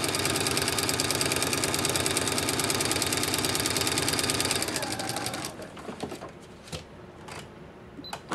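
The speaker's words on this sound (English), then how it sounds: "start sewing a few stitches, and then go back, do a reverse, and then come on forward" A sewing machine runs steadily, stitching fabric for a floor mop shammy pad, with a brief pause for a reverse stitch; after about five seconds the motor stops, leaving quieter clicks and handling noises.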